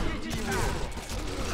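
Gunfire in the shooter game Sniper Elite V2: loud, continuous shooting across the whole moment, with voices talking over it.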